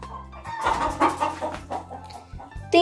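Hen on a Brazilian farm clucking loudly just after laying an egg, a run of agitated, repeated cackles close by with no speech.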